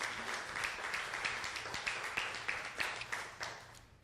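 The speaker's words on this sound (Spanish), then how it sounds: "Dale un aplauso al Señor." Congregation in a church clapping along in a steady, regular rhythm, moderately distant and somewhat soft, with a faint voice in the background.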